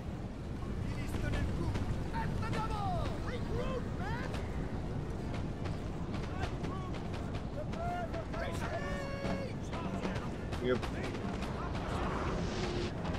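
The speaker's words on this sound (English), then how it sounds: "These artillery are shooting." Artillery batteries fire during a Napoleon: Total War online battle: repeated booming shots land over dense battlefield noise, including musketry and crowd-like clamour, with a player talking through much of it.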